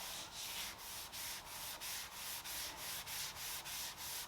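A damp sponge rubs whitewash onto a wooden dresser in a quick, regular back-and-forth rhythm, a soft close scrubbing swish repeated about ten times with no talk.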